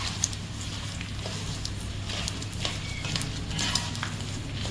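Edible gum (gond) frying in ghee in a pan, a dense, even bubbling sizzle with faint patter, steady and close throughout with no talk.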